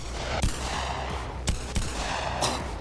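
Glock BMG mod firing in BONELAB, a virtual reality game: four sharp, heavy shots spaced unevenly over a steady background rumble, loud and close.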